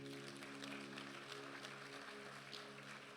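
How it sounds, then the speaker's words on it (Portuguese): An audience applauds at a church gathering, with steady, dense clapping filling the whole stretch at an even level over a faint sustained hum. "Vamos dar um aplauso para o Sonilson."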